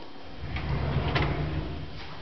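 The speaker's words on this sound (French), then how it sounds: "Dans l'îlot, vous avez également deux grands tiroirs à chaudron." A deep pot drawer in a large kitchen island slides open or shut with a soft rolling rumble and a couple of light knocks, close by, muffled and brief, with no talking.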